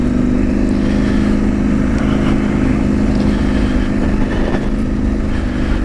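A motorcycle is ridden on a road, its engine holding a steady, close mid-pitched drone with wind rush for the whole stretch, and no pauses or gear changes stand out.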